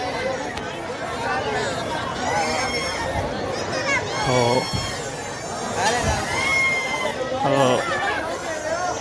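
Dense crowd chatter and hubbub fill the Ram Barat procession in Farrukhabad, a steady outdoor babble with louder swells, while someone talks over it close by.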